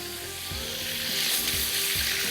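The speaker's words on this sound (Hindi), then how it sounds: "चलिए इसको हम फ्राई करके निकाल लेंगे" Chicken frying in a pan, a dense, steady sizzle rising slightly in loudness, with faint low bumps beneath it.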